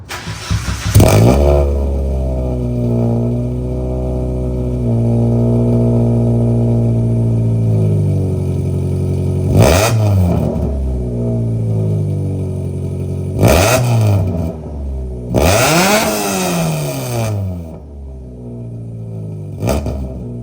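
Very loud drift and burnout car engine starting up and revving hard close by. Sustained raw engine roar is broken by several sharp throttle blips and rising revs.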